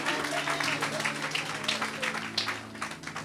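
Church congregation at a deliverance service clapping and acclaiming the Lord, a dense continuous wash of applause filling the room with a mix of voices and cheering underneath.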